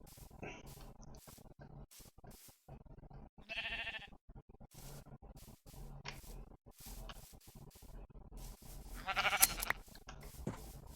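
Sheep bleating in the Minecraft modpack FTB Interactions, a few brief bleats, one around a third of the way in and a louder one near the end, amid faint clicky game noises.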